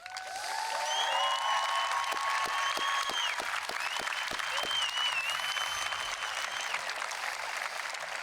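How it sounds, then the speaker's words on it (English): Sustained applause and a few whistles from the audience at a high school graduation as senior players stand and bow, a full, even roar of clapping that builds quickly and holds. "so we can applaud you one last time"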